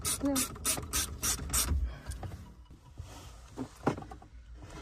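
Ratchet clicking while tightening a bolt on a 2021+ Ford F150 during a start/stop eliminator install, a burst of rapid close pawl clicks followed by quieter scattered mechanical rattles.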